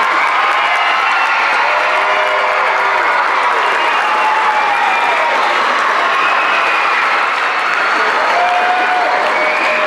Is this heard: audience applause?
yes